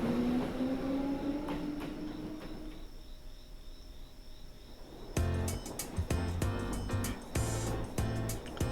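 Train riding along rails in the video game Trails of Cold Steel, with a steady low rumble and rising tone for the first few seconds, then a quieter stretch before a busier section with repeated sharp clacks and metallic hits near the end.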